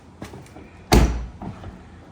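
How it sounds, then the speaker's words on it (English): A 2015 Tesla Model S door swings shut with a single loud, close thunk, slightly hollow and light, followed by faint handling sounds. "the door. It seems very funky, like when you close it"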